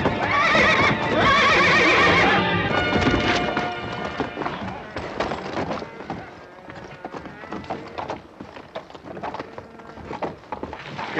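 A horse in a western scene gives a loud, close whinny, followed by a stretch of clattering hooves and scuffling with voices mixed in.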